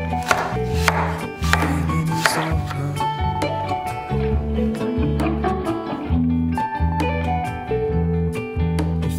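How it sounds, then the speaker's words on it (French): A knife cuts apples into thick rounds on a board, producing repeated close, fairly loud chopping knocks in an uneven rhythm with no talking. "je vais déjà découper des grosses rondelles de pommes"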